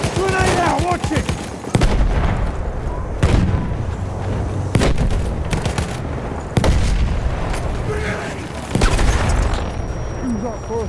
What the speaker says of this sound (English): Grenade out, watch it.